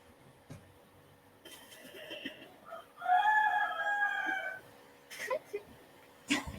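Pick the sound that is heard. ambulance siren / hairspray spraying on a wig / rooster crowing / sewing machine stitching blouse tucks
rooster crowing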